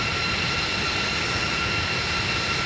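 Rotate MD-80-series airliner with IAE jet engines in flight, as in an MD-90 flight simulator sound pack: a steady, loud, broadband roar with a constant high whine, unbroken for the whole stretch.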